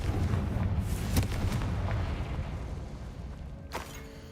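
The Confringo fire spell in Hogwarts Legacy detonates in a dense, roaring explosive blast. A heavy rumble fills the whole stretch, punctuated by a few sharper bursts, and a final crack lands near the end.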